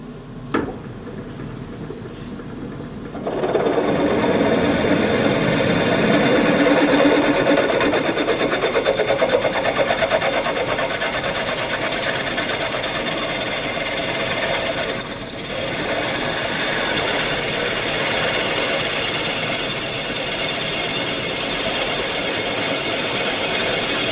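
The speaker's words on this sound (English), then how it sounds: "we changed the drill for the tapping size drill" After a short quiet start, a machine drill starts up and grinds steadily through metal, boring a 9/16-inch tapping-size hole for 5/8 UNF thread, a continuous whirring, chattering drone that holds for the rest.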